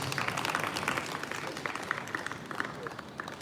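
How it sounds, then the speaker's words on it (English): Audience applause at an election-related official event in Nigeria, a moderate, continuous patter of clapping from a crowd, fairly distant, with a voice faintly mixed in. "A round of applause for him, please."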